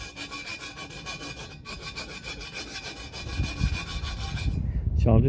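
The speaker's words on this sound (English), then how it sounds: "we need to file off any burrs that may have been there during the cutting of this" A hand file rasps back and forth across the freshly cut edge of copper to clear away burrs, in steady close scraping strokes that grow louder toward the end.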